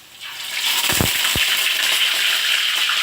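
Tofu frying in a pan of hot oil, a steady broadband sizzle that rises quickly and holds loud and even, with a couple of brief low knocks near the start and no voices.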